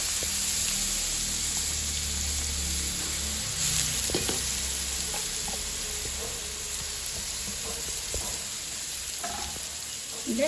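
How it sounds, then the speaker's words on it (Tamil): A ground paste of onion, garlic and ginger sautés raw in a hot pan, giving a continuous hissing sizzle with occasional scraping stirs and small pops, steady and close throughout, with no talking. "இது நல்ல பச்சை வாடை போக வதக்கிறணும்"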